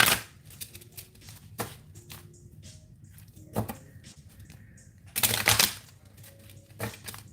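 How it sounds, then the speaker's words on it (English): Several bursts of playing cards being shuffled and riffled, separated by quieter pauses with faint clicks, close and fairly clear. "I love lo-fi and shuffled cards. That's my favorite thing to hear."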